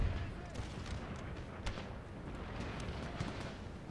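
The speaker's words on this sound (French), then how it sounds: "Voilà l'artillerie." Artillery fire from a Napoleonic-era battle in Empire: Total War with Darth Mod, heard as a dense, rumbling wash of distant booms and scattered cannon shots with one sharper crack near the middle, continuous under a busy battlefield din.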